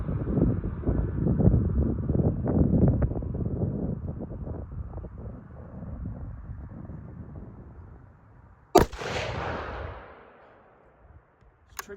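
A single sharp rifle shot from a Bergara Wilderness Sierra, a Remington 700-style bolt action, firing Remington Core-Lokt 150gr ammunition outdoors, cracking loud after a stretch of steady wind rumble, then trailing off into quiet.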